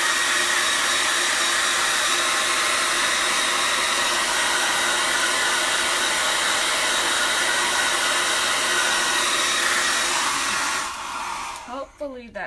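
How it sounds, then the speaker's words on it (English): A hair dryer runs close by at full power with a loud, steady broadband roar for most of the time, then is switched off and spins down near the end. "My apologies for listening to a hairdryer."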